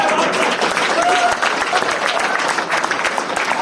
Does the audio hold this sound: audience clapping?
yes